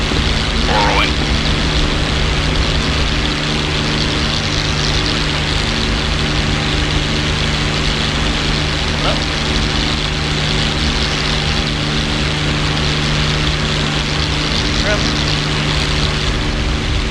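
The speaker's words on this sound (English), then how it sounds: "That's how you take off the Mustang, boys." Propeller engine of a P-51D Mustang fighter during takeoff in a flight simulator, a loud steady droning roar holding throughout with a constant low hum and faint radio chatter over it.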